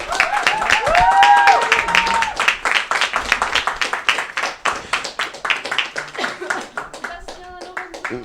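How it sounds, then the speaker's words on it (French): A small group claps for presenters at the close of a French student-made sports broadcast, with loud irregular clapping and excited voices and cheers over it that gradually thins out. "Un tonnerre d'applaudissements pour eux."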